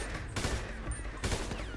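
Gunfire in GTA 5 roleplay: a close, loud burst of rapid shots, a pause, then another volley with noisy crackling background throughout.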